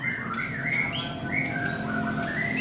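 Magpie-robins in a bird shop stocked full of them, calling in a dense overlapping chorus of squawks and whistled phrases, loud and continuous throughout with no talk.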